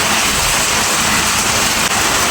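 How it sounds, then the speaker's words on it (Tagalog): Heavy rain pours steadily as a dense, loud, unbroken hiss with a low rumble underneath, continuing without pause for the whole stretch; no voices can be made out. "Lakas ng ulan"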